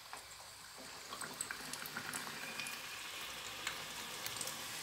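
Griwech dough rosette frying in hot oil in a pan, a steady close sizzle with scattered small pops and crackles throughout, no voices.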